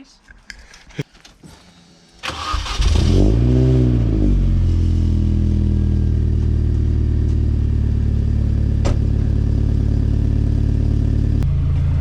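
A Mini Cooper S (R53) fires up after an exhaust manifold change, catching with a loud burst, revving briefly with rising and falling pitch, then settling into a steady, close, rumbling idle.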